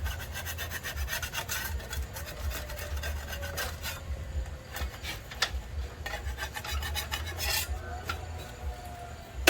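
A metal file rasps against a blade during sharpening, giving a steady, dense scraping texture that runs continuously with a few sharper strokes, fairly close and moderately loud, with no talking.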